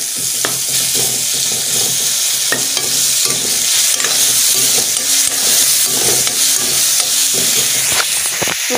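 Ginger and garlic fry loudly in a hot pan with a dense, constant sizzle, while a utensil stirs them with occasional scraping clicks.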